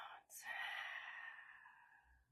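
A soft, slow out-breath during a calm hip-focused stretching class, close and quiet, fading gradually over about two seconds.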